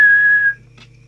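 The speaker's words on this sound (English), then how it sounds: "I will just give it the whistle test" A single steady whistle tone into a Maxon Apex CP0520HD hand-portable radio held for about half a second, then a short faint breathy blip over a constant low hum.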